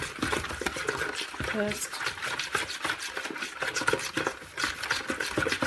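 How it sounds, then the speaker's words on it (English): Lamb chop marinade of spices and lemon juice is stirred into a paste, making a continuous wet scraping and squelching close up while someone speaks over it. "mix it into a little paste"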